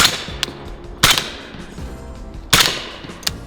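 A suppressed Sig Rattler rifle fires subsonic and supersonic rounds, with two loud sharp reports about a second and a half apart and fainter clicks between them, close by and with no talking.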